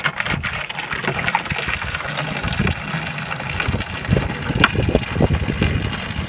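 Boiling water pours in a continuous gushing splash onto salt in the bottom of a container for an eco-friendly weed killer, close and fairly loud with uneven surges.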